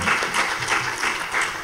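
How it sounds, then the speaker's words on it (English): Audience applause at a UN forum on youth and civil society, a steady dense patter of many hands clapping, fairly loud and continuous with no voices over it. "please give her a big round of applause, Ms. Merle Cristina Barlaan."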